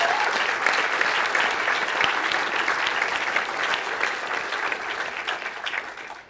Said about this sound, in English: can we have a round of applause for Dave